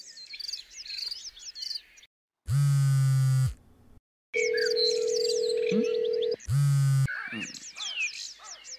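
Phone rings unanswered on a call, two long ringback tones separated by gaps, with birds chirping and a faint voice in the background between rings.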